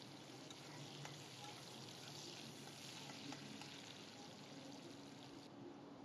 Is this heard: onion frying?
yes